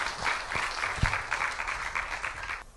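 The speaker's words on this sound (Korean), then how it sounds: "박수로 맞아볼까요?" An audience at a poetry and song concert applauds, dense steady clapping from many hands in a hall, moderately loud with a few sharper claps standing out near the start.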